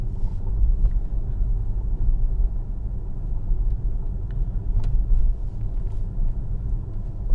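A Tesla on Autopilot rolls slowly through an intersection at low speed, giving a steady low road rumble with faint tyre and wind noise and no talking.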